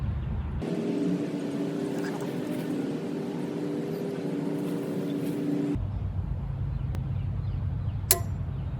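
A well pump fills a pressure tank with a steady, close mechanical hum and drone for several seconds, then cuts off abruptly, leaving a quieter background with a brief click near the end.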